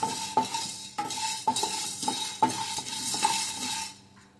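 Black peppercorns dry-roasting in a pan for sambar powder, stirred with a metal spoon that scrapes and clinks in a steady rhythm about every half second over a soft sizzle, close by.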